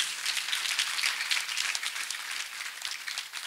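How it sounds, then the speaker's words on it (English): A church congregation applauds, many hands clapping in a lively, moderately loud burst that carries on evenly to the end. "Let us once again clap for Master Jesus."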